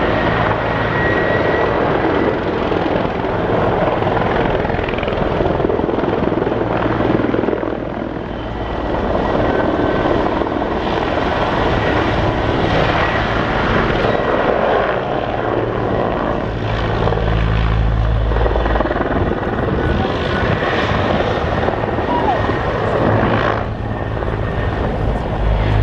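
Several military helicopters at the RIAT airshow, including Airbus types, thunder steadily overhead with loud, continuous rotor thumping and engine roar that swells and fades slightly as they pass.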